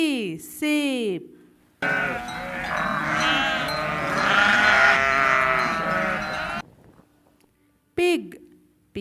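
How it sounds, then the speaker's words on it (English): Sheep bleat loudly and close by in several wavering calls, one long drawn-out cry in the middle with shorter bleats before and after, separated by brief silences. "sheep, sheep."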